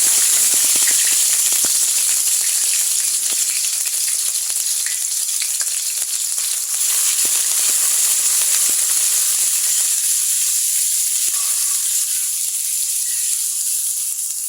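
Nigella seeds sizzle with onion, garlic and ginger paste in a hot frying pan, a steady, close, crackling fry with no talking.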